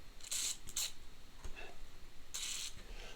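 Short hissing bursts of penetrant lubricant sprayed onto the rear shaft of a Necchi sewing machine, three quick spritzes then a longer one, close and fairly quiet.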